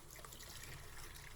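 Water from a tap trickles and splashes steadily as oven grills are rinsed off, a soft continuous running sound that stays quiet throughout with no voices.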